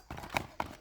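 Horse hooves clip-clopping as the horse is ridden, two quick, moderately loud hoof strikes in under a second.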